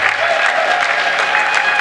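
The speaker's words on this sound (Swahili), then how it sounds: "Makofi hayatoshi, hebu jiongezeeni makofi." Audience applause filling a hall during a speech praising Benjamin Mkapa Hospital staff, a dense steady clapping that holds at full strength for the whole stretch with no pause.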